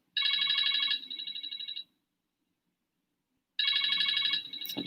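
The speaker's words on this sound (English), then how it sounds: "Just gonna let it ring because it's actually all the way over there." A phone ringtone rings across the room in two bursts of a repeating bright electronic melody, a clear pause between them, moderately loud and with no talk over it.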